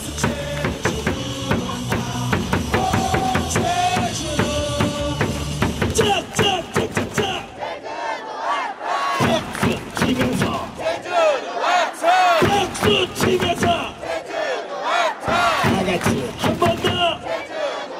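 A packed stadium crowd at a baseball game shouts and cheers in loud rhythmic chants, with bursts of rhythmic clapping and brief drops between surges. The roar is close and sustained, with a cheerleader leading the crowd.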